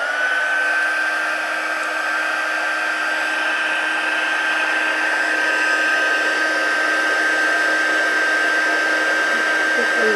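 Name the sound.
heat tool heating a card craft project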